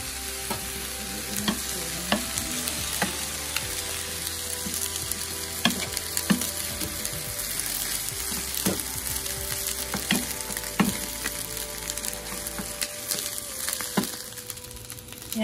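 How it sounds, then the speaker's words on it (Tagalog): Fried rice with mackerel stirred in a hot pan, a steady loud sizzle with repeated scraping strokes of the utensil, no talking. "Haluin na natin siya."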